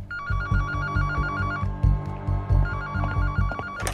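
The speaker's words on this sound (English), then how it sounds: "Paola Magni gets a phone call from the police." A telephone rings in repeated double trills, clear and close, with a pause between bursts, over a steady thudding musical beat.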